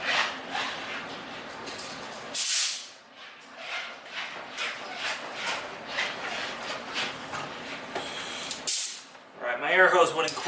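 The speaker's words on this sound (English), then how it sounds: "we're going to use a little bit of compressed air. And we're going to blow in here." Compressed air blasts into a Miele Scout RX1 robotic vacuum cleaner in loud hissing bursts of uneven length, with short pauses between them.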